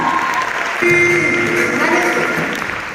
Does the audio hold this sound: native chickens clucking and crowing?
no